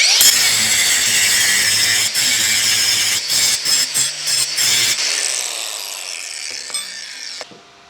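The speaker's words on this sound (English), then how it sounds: "I'm going to clean this up with my ArcCaptain grinder here." ArcCaptain battery-powered angle grinder cleaning up a plasma-cut metal edge: a loud, harsh, high-pitched grinding whine with rapid bursts and stutters as the disc bites, then spinning down and fading near the end.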